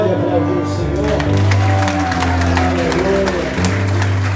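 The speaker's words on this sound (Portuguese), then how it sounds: "Você pode aplaudir o Senhor?" A church congregation applauding during a celebration service, a dense wash of clapping under sustained organ-like music and voices, loud and continuous.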